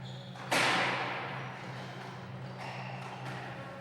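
A squash ball struck hard in warm-up shots at an African seniors championship, Zambia versus Namibia: one sharp loud crack followed by a fading echo in a reverberant court, then fainter knocks and a steady background hum.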